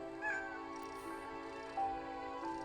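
A kitten in a TV episode gives two short, high meows, one near the start and one past the middle, quiet and a little thin over a steady tonal backdrop of soft music.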